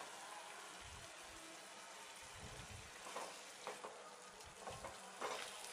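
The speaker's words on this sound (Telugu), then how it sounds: "ఒకసారి గరిటతో కలుపుకొని" A ladle stirs cauliflower tomato curry in a pan with a glass of water just added, giving soft sloshing scrapes and bubbly sizzling that come in a few short bursts over a quiet simmer.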